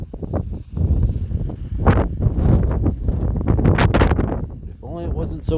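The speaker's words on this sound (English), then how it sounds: "If only it wasn't so windy so we could see them clear." Strong wind gusting across an open hillside, loud buffeting rushes on the microphone with people talking intermittently over it.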